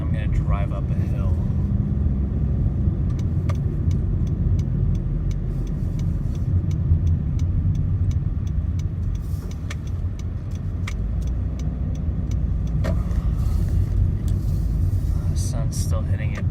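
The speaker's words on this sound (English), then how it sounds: "I'm going to drive up a hill." A 2013 Honda Civic climbs a hill, its engine and road noise forming a steady low rumble inside the cabin, with a person talking over it at times.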